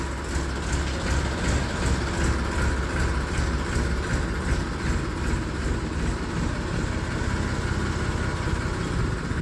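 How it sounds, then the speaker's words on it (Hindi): A tractor engine idles and runs steadily with a trolley hitched for hauling sugarcane, a continuous low rumble with a rhythmic pulsing throb, close and fairly loud throughout. "दोस्तों ट्रैक्टर स्टार्ट कर लिया है और ट्रॉली भी चेक हो गई है।"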